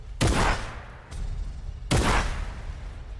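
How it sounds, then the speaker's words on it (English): A combat shotgun fires at dinosaurs in Fortnite Creative, giving two heavy booming blasts about two seconds apart. Each rings out loud and close with a lingering tail, and a faint thud falls between them. "shoot the dinosaurs with the combat shotgun in your inventory"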